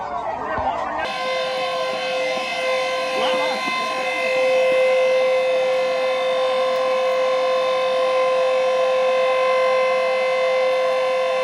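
A civil defense siren during a mock drill in Kishanganj wails loud and continuous, holding a steady rising tone for several seconds after a short burst of nearby chatter at the start.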